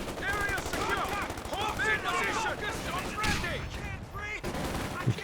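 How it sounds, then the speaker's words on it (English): Machine gun fire crackles in the Company of Heroes 2 battle, rapid bursts and scattered shots under a steady commentary voice, with the gunfire mid-distance and dense throughout. "Here comes a second machine gun."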